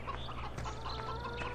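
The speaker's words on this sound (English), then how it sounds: "We have a thriving little chicken pen." Chickens cluck in a small pen in the video game Farming Simulator 2013, several short soft calls scattered over a low steady hum, fairly faint and close, with no voices.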